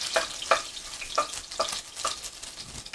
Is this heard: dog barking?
no